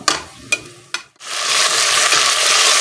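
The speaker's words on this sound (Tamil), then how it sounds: "இந்த மாதிரி நல்லா பொன்னிறமாக வதக்கிக்கணும்" Ingredients for a home-made chicken biryani are sautéed until golden. A few utensil clicks are followed by a brief pause, then a loud, dense, even sizzle rises up and holds steady.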